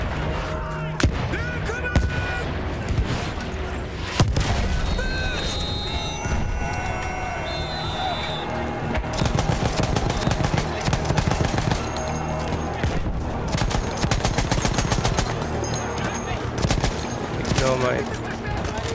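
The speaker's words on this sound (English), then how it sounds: "Oh my, shooting." Gunfire and explosions in the video game Battlefield 1, dense bursts of shots and booms over a loud battle soundscape with music, under occasional talk.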